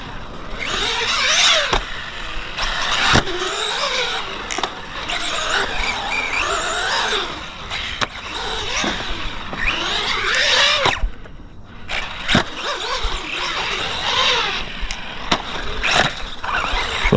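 An Arrma Mini Kraton RC truck fitted with prototype shock shafts drives over rough ground up a hill, its electric motor whining in rising and falling bursts, with sharp knocks and clatters of impacts, loud and close for the whole stretch.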